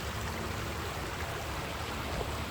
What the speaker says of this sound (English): listen to that water. Doesn't it sound beautiful?